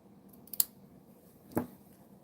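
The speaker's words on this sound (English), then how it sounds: "I'm going to kind of cut this at an angle" Scissors snip through craft material at an angle, two brief crisp cuts about a second apart, close and quiet against a faint background hum.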